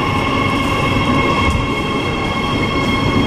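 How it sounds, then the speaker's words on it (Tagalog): A Riyadh Metro train pulls into an underground station, a loud, steady rumble of wheels on rail with a sustained whine and faint squeal, filling the space with no voices. "Ayan na, may padating ng train."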